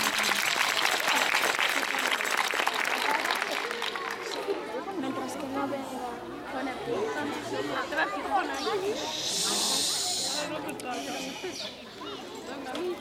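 Applause from a gathering at a Galician folk music event starts strong, then gives way to crowd chatter and overlapping voices as the clapping dies down.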